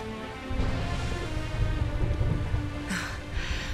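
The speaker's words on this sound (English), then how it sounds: "Would you look at it thundering away out there?" In the Dragon Quest XI game world, a thunderstorm rolls with a low, sustained rumble of thunder over steady rain, moderately quiet and without speech.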